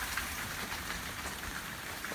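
Heavy rain pours down steadily onto a filled tray and drainage pipe outside a building, a dense, continuous hiss of drops drumming on surfaces at even loudness throughout, with no voices.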